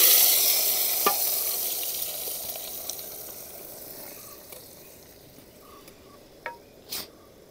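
Dal tipped into a hot, sizzling tempering for dal palak (spinach dal), with a steady frying hiss that slowly fades and a few sharp clinks of stirring near the end.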